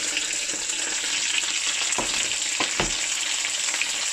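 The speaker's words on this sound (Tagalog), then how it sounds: "So bali 4 ito na ipiprito ko." Four cornstarch-coated chicken breast pieces fry in hot oil with a steady, dense sizzle throughout, broken by a few soft knocks or shifts near the end, with no talk.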